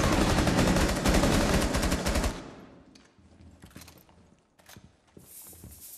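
Gunfire in the video game Rainbow Six Siege: a dense, loud burst of rapid shots for about two seconds, then quieter scattered single shots and clatter.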